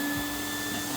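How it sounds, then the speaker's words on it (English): Vacuum pump beneath a screen printing table, switched on with a foot pedal, gives a steady, loud motor whine and rushing air hum that runs evenly through the whole second with no talk over it. "activates the vacuum down below"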